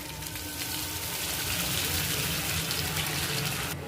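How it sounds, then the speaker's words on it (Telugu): Water poured into a pan of stuffed ridge gourd (beerakaya) with peanut masala cooking, a steady soft gushing pour lasting a few seconds, faint and continuous with no talking. "కొంచెం నీళ్లు పోసుకోవాలి."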